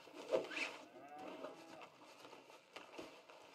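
Cow in the Red Dead Redemption 2 game world, lowing in a long drawn-out moo over steady ambient game noise, moderately close and without speech.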